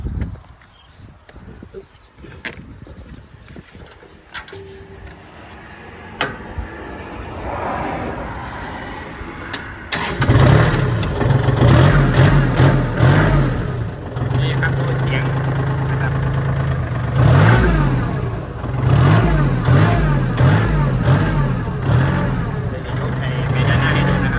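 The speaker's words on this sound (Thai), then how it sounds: "มาครับผมจะสตาร์ทให้ดู นะครับ" A 2014 Kubota L3608SP tractor diesel engine cranks and catches after some nearby clicks and handling noise, then settles into a loud, close, chugging idle with rhythmic revving pulses. Someone speaks at the start.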